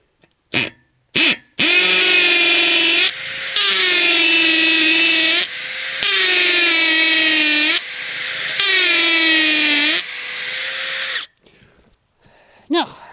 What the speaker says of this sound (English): So I'm going to go drill a hole now.